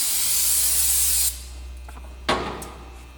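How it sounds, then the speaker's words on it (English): Brake cleaner sprays in a loud, steady hiss onto a Yamaha Apex snowmobile head shim, stops abruptly, then a second short burst follows. "Make sure that we clean the head shim with the brake cleaner also."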